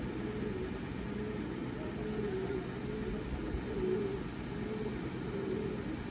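Pigeons coo in low, repeated rolling calls against a steady background rumble, with the coos rising and falling at moderate distance.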